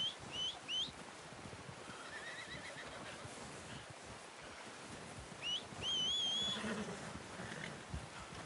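A horse whinnies in a video game hunting scene, two high neighing bursts near the start and a longer, louder whinny around the middle, over a steady outdoor wind-like ambience with faint hoof movement.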